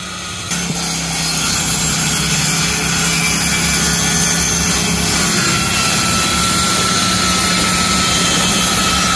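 A generator runs steadily beside a Peugeot Boxer campervan conversion, a loud continuous engine drone with a low hum that starts after a brief sound at the opening and holds unchanged for the rest of the clip.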